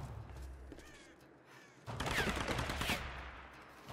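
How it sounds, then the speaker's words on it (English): Gunfire in the Tomb Raider video game, with a quieter stretch before a sudden loud burst of rapid shots erupts close by and keeps going for the final two seconds. "Apparently, bullets don't penetrate wood."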